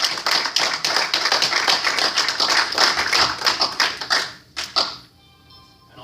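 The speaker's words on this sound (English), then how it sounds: "I'm going to applaud that." A room full of people applauds at a city commission meeting. The clapping is dense and sustained for several seconds, then thins into a few scattered final claps before it stops.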